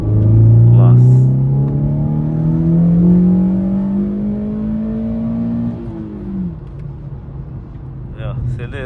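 A naturally aspirated car with a remapped engine revs up under acceleration, its engine note rising steadily then dropping as the throttle eases, loud and close inside the cabin with someone talking over it.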